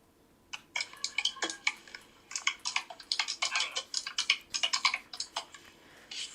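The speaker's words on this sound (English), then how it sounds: "That is a loud keyboard." Loud clacking computer keyboard typed in rapid irregular bursts of keystrokes, close and alone with no talk, pausing briefly before continuing steadily.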